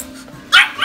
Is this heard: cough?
no